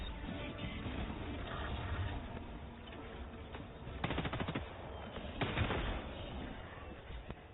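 Automatic EMS turret in a video game firing at enemies, with rapid bursts of gunfire at moderate distance, two distinct volleys standing out over a busy battle background.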